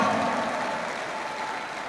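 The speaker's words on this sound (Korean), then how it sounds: "여러분 큰 박수를 부탁드리겠습니다" Audience at a party founding meeting applauding after a unanimous vote, a dense, steady wash of clapping that fades slightly over two seconds, with no speech.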